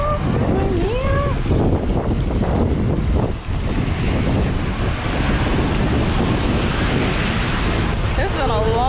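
Strong wind buffets the microphone on a beach at Hilton Head Island, a steady roaring rush mixed with surf, while people talk briefly over it.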